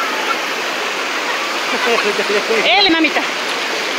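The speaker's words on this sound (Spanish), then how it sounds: "Porque vienen las olas muy fuertes, les vaya a pegar en la cara." Strong ocean waves wash onto a beach and break along the shore as a steady, loud rushing roar, with a brief nearby splash, while a person speaks briefly over the surf.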